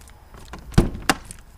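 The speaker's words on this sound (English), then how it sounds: "the central locking works again" Central door locking on a Land Rover Defender actuates, two sharp mechanical clunks about a third of a second apart, close and loud against a quiet background.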